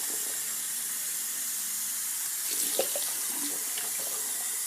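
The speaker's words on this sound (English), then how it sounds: "Use the cup here, and we will give it a nice old rinse" Water poured from a cup splashes into a bathtub during a rinse, giving a steady soft hiss of running water with a few brighter splashes midway, close and alone.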